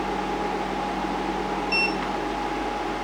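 An Ecoflow Wave 2 portable air conditioner runs with a steady, fairly loud whirring hum and airflow noise, a brief high electronic tone appearing partway through, with no talking.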